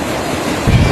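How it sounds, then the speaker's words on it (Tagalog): Strong sea waves roll in at a beach where people are swimming, a loud, dense wash of surf that swells louder near the end of the short moment. "Lakas ng alon."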